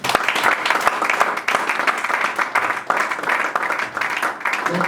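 A church congregation claps and cheers for the Lord at a French-language service, with dense, sustained applause from a crowd that fills the room steadily from start to finish, loud and close.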